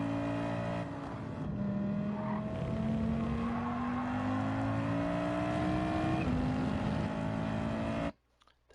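A 1987 Audi Sport Quattro S1 Pikes Peak rally car in Gran Turismo 7 on the Deep Forest track climbs through the gears, its loud engine note rising and dropping with each shift, continuous and close, then cutting out abruptly.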